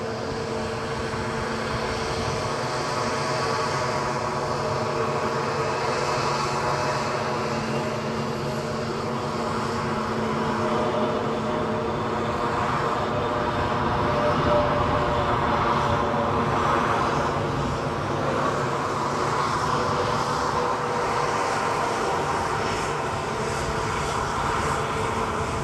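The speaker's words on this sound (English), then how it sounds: "EasyJet arriving." An EasyJet airliner arriving at Edinburgh Airport, its engines a steady, loud jet roar with whining tones that swells slightly midway and holds throughout, with no talking.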